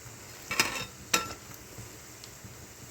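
Garelu, lentil fritters, frying in hot oil, a soft steady sizzle with a couple of sharp metallic scrapes of a spoon against the pan, no voices.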